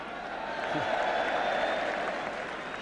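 Spectators at a 1975-76 Spurs versus Middlesbrough football match applaud and murmur, a broad, steady ripple of clapping from a large stadium crowd that rises slightly midway and carries a faint voice beneath.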